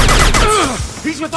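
Rapid bursts of gunfire from the Mass Effect 2 video game rattle loudly, with a character's voice shouting over the shooting.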